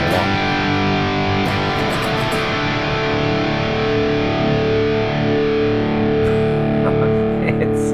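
Sustained distorted electric guitar note played through a Fractal FM3 floor effects unit, ringing steadily and loud for the whole stretch with a slight swell near the end.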